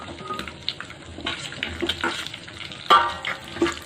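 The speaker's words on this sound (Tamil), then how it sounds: "வெங்காயம் வதங்கிட்டு இருக்கு, பொன்னிறமாக வதங்கிட்டு இருக்கு" Close, uneven clatter of stirring with a light sizzle as onions and shallots cook with curry leaves in a pan for vela meen kuzhambu, with scattered knocks and scrapes; no voices.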